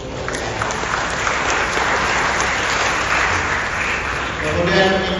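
Sustained applause from a crowd at an education fair, steady and dense for several seconds, swelling slightly near the end.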